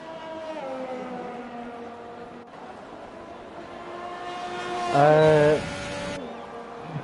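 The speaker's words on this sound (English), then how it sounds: "As he begins his flying lap now, the Alfa Romeo does" An Alfa Romeo race car engine on a flying lap gives a steady, high harmonic whine that shifts in pitch as it runs, then surges louder for a moment before easing back.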